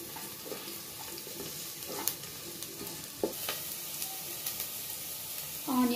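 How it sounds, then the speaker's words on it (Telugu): Green chillies, cumin seeds and onion fry in a pan with a soft, steady sizzle. Intermittent stirring clicks and scrapes rise above it, and a sharper metallic scrape comes at the end. "గ్రీన్ చిల్లీ జీలకర్ర వేసి కొంచెం వేయించుకుందాం లైట్ గా ఆనియన్ ఏగేంత వరకు వేయిద్దాం"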